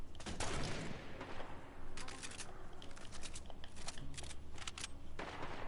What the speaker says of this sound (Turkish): Atıyorum.